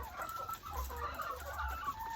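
Chickens on a poultry farm cluck continuously in a dense, mid-distance chorus, with overlapping calls over a low background hum.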